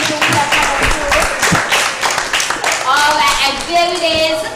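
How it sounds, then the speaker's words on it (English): A group of children at a storytelling session clap together, a dense burst of hand claps filling the whole span with brief voices rising over it near the end. "Give Destiny a clap for going to William Connor School"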